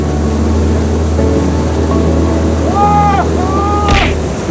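A small remote-controlled boat motor drones steadily on the water, a constant buzzing hum that runs under voices talking and calling out nearby.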